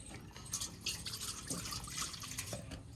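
Water is poured in a home kitchen while cooking, a steady splashing trickle with small drips running through the whole stretch at low, even loudness.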